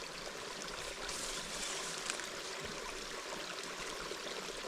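Water runs steadily out of a gulch, a continuous broadband rush at moderate distance with no pauses.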